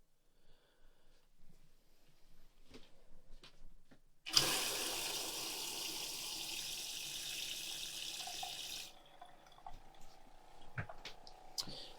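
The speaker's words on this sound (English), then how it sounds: "it's a self-priming pump, meaning you don't have to introduce water into it" A self-priming water pump starts abruptly with a loud, steady hissing rush of water, runs evenly for several seconds, then drops to a quieter gurgle amid faint clicks.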